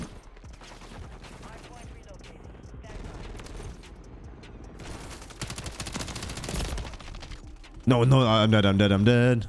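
BAL 27 rifle fire in the shooter game Modern Warfare 3, rapid sustained bursts of gunfire with mechanical clatter, loud and continuous under excited talk, ending in a brief spoken remark.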